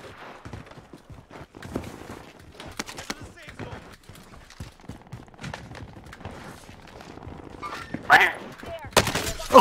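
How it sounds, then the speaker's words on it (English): Rapid bursts of gunfire in the Cold War era of Call of Duty Warzone, with shots popping through a tense match and growing louder near the end, mixed under excited player chatter. "Oh shit, I'm getting shot at!"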